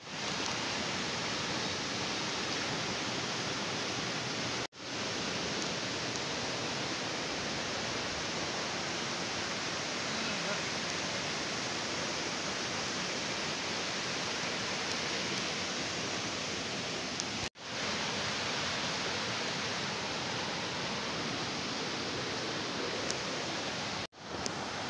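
A river stream at a natural swimming spot rushes in a dense, steady broadband wash, loud and continuous, broken by a few brief dropouts.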